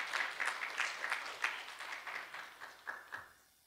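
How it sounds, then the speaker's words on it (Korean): A church congregation clapping together, a steady patter of hands that gradually thins and fades out at the end. "우리 큰 박수로 우리 맞이하겠습니다"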